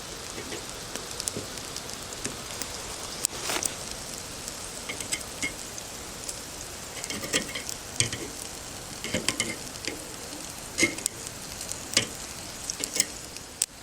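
Bacon sizzling on a charcoal grill, a steady soft crackle and hiss with scattered pops, close and fairly quiet, no talking.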